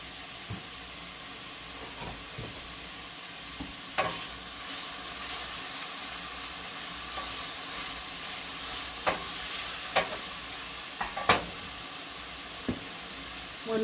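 Onions, peppers, tomatoes, broccoli and squash sauté in a pan, a soft continuous sizzle broken by scattered sharp clicks and scrapes of stirring, no talk.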